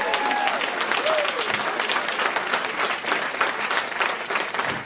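A church or conference audience at an Eve Sisters gathering gives a lady in pink a warm round of applause, dense continuous clapping and crowd noise with a brief whistle or cheer near the start.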